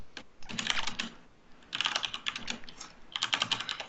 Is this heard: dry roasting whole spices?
no